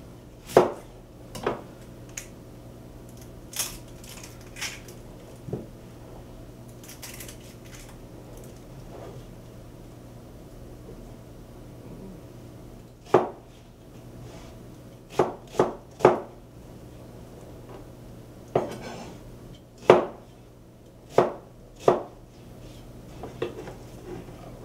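An onion is cut into small pieces on a cutting board with sharp, irregular knife chops, some isolated and some in quick clusters, over a low steady background hum.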